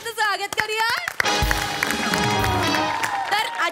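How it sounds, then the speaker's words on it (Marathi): An audience claps and cheers to welcome a guest expert at a comedy-show discussion segment. After a short spoken introduction, a sustained wash of applause swells under music and carries on to the end. "जोरदार टाळी त्यांचं स्वागत करूया"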